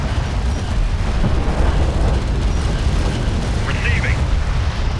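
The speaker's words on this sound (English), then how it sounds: "Armored vehicle is taking fire." Explosions and weapons fire boom continuously in a Homeworld: Deserts of Kharak battle as an armored vehicle takes hits, forming a dense, loud rumble with bursts throughout.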